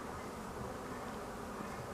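Honeybees in flight around hives at an apiary as the sun slips behind clouds, a soft, steady buzzing drone of many wings with no voices.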